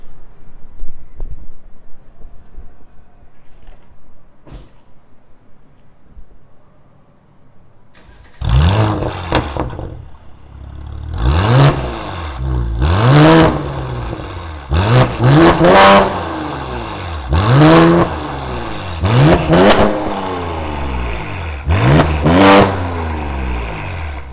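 After a quiet start, a Mercedes S450 3.0 engine revs hard again and again through a remote-controlled valve exhaust, each loud rising-and-falling blip following close on the last.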